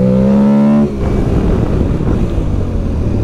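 A motorcycle engine revs high and loud, then drops sharply to a lower pitch as the electronic quickshifter changes gear, roaring on with heavy wind noise.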